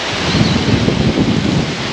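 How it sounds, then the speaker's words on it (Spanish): A strong breeze buffets the microphone beside an outdoor water fountain, a steady loud rush of wind noise mixed with splashing water. "Lo fuerte que está la brisa que se nota en el agua."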